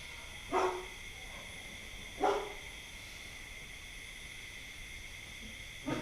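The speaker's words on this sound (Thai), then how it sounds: "มีหมาเห่าด้วยนะฮะ" A dog barks twice at a distance, single woofs spaced well apart, over a steady high insect drone.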